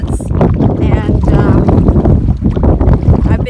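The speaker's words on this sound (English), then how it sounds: "The wind has been gusting pretty good, especially in a couple of spots." Gusty wind buffets the microphone during a solo canoe paddle on a Temagami lake in Ontario, a loud, continuous rumbling roar with some water noise and a voice talking over it.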